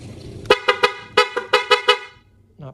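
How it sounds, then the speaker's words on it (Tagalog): A loud, bright aftermarket horn on a Suzuki Raider Fi motorcycle honks in a fast rhythmic series of about eight sharp blasts, in two bursts, up close. "naka-ano na siya, loud horn."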